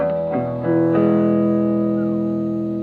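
Electric guitar through a Fender Super Champ X2 set to the Tweed clean amp model with reverb on, a few picked notes then a sustained ringing chord that decays slowly, loud and alone.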